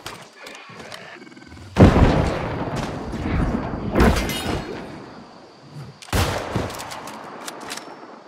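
Game gunfire in New World: bursts of loud, close shots and booming blasts in several clusters, with voices talking between them.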